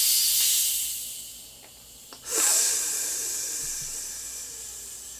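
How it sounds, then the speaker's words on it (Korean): Sparkling makgeolli fizzes loudly right after opening, a bright sustained hiss of rising carbonation that fades, then surges again with a sharp burst before slowly settling. "사이다처럼 탄산이 쫙 올라와요."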